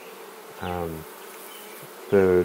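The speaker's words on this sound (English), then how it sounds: "The bees inside are really happy, really working hard." Honeybees in a hive buzz in two short, close bursts over a faint, steady hum, the second louder than the first.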